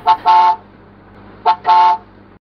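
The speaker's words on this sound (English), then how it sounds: "Van." A van horn honks twice in quick pairs, a short beep followed by a longer blast, repeated after a pause, loud and close.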